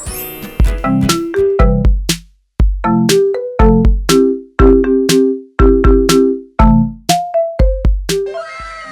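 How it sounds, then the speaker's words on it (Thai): A bright, bouncy marimba melody made in Chrome Music Lab, quick mallet-struck notes, some in chords, playing alone with short ringing decays and a brief pause midway. "ซึ่งตอนนี้เพลงของเราใช้เสียงมาลิมบ้าอยู่ค่ะ"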